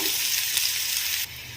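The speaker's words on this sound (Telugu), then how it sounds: "ఇప్పుడు వీటిని మంచిగా మనం ఫ్రై చేసుకుందాము." Bitter gourd pieces sizzle loudly in hot oil in a pan, a steady close frying hiss that drops suddenly to a quieter sizzle near the end.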